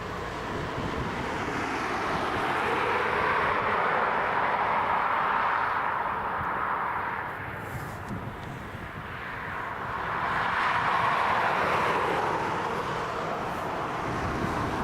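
A Norwegian airliner departs Dublin Airport, its broad jet roar swelling loudly, easing off, then building again, with wind buffeting the microphone throughout.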